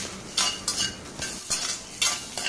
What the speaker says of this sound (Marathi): शेंगदाणेसुद्धा आपल्याला तुपामध्ये भाजून घ्यायचे आहेत.